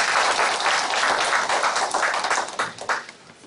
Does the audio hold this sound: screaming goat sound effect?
no